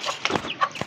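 Short, close clucks from chickens, a few quick bursts within a second, with a soft rustle in the background.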